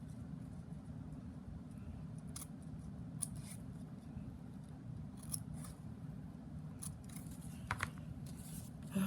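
Scissors snipping through ribbon while making ribbon-work bookmarks: a series of faint, irregular, crisp clicks and snips over a steady low hum, with no talking.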